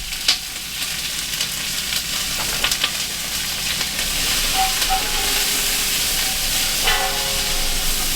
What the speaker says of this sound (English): One pound of carrots. Let's saute them up a little bit first.